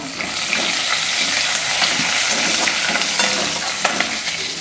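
Green chili, ginger-garlic paste, asafoetida and curry leaves hit hot oil for a sprouted moth bean usal, giving a steady, close, loud sizzle with faint stirring scrapes and no voices.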